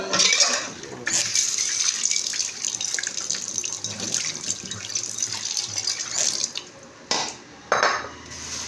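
Tap water runs steadily into a sink while small galunggong fish are washed and handled, with dish and utensil clinks, brief pauses in the flow, and no talk over it.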